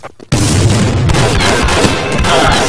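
A bomb detonates in Counter-Strike 1.6 with a sudden, very loud boom after a brief quiet moment, then a long, rumbling, crackling blast that fills the rest of the moment.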